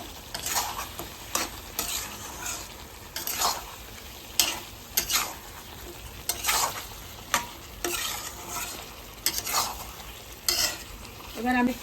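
Bengali-style chicken curry sizzles in oil while a spoon scrapes and stirs it around the pan in repeated strokes, a steady frying hiss under rhythmic metallic scraping.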